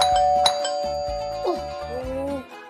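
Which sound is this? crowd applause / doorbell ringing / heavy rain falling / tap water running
doorbell ringing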